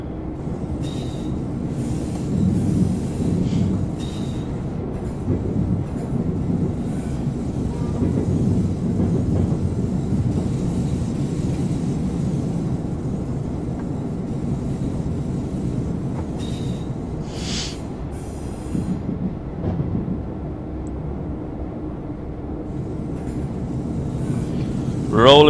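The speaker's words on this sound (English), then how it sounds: "Big heavy train. Definitely don't want to rush." A heavy BR143 electric locomotive and its train roll steadily through the Mosel Valley in Train Simulator 2016, giving a continuous low rumble with faint rail clicks and squeals rising near the end.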